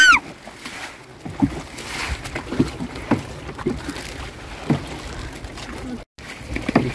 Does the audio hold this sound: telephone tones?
no